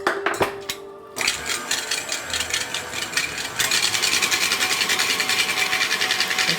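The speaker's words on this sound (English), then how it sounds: "let's just give this a nice little whisk and get it all combined" Whisk beating vegan, gluten-free dark chocolate cupcake batter in a bowl, a fast rhythmic scraping and clicking that starts after a few taps and grows steadier and louder, close up with no voices.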